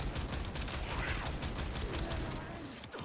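Dense, continuous Kuva Brakk shotgun fire tears through level 165 corrupted heavy gunners in the video game Warframe, with overlapping blasts and impact crackle heard loud and unbroken throughout.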